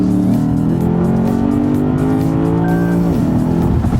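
The 5-liter V8 engine of a 2017 Lexus RC-F coupe roars loudly as it accelerates, its pitch climbing steadily through the revs before a shift, up close and with no talking.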